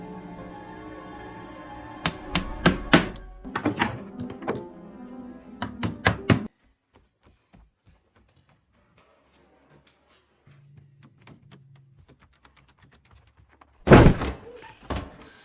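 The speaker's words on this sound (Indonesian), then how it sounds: "Graham dan Mary langsung menutup pintu dengan papan kayu" Wooden planks being hammered and thumped against a door as it is boarded up in a tense scene from the alien film Signs, heavy knocks clustered in bursts with a lone loud bang near the end.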